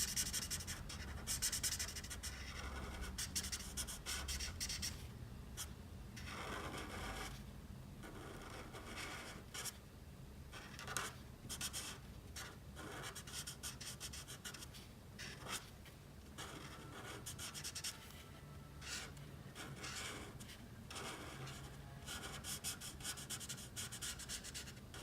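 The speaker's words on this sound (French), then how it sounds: "On va venir ici colorier quasiment tout en fait" Marker strokes of an Aqua Frais Pro Marker coloring a Pokémon emoji drawing, close-up and steady, with repeated soft rubbing and scratching across paper and brief pauses between passes.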